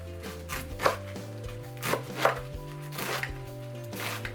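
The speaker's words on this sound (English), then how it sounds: "I want to go ahead and cut it off the stem. Just going to cut it across." A knife cuts collard greens off the stem against a board, several distinct chopping thuds at an uneven pace, close and clear, with faint background hum.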